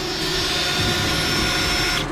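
A drill-mounted paint mixer stirs automotive paint with a steady, loud high-pitched motor whine and a faint churning beneath, running continuously through the short stretch.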